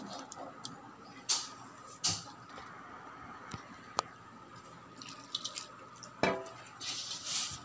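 Hands mixing a lentil and greens vada batter in a bowl, soft wet squelches with scattered ticks and small taps, close and quiet, irregular rhythm without talking.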